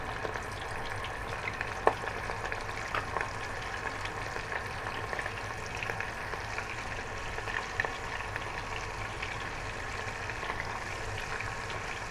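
Fermented pork cartilage fries in oil in a pan, a steady dense sizzle and crackle that runs unbroken throughout with no voices.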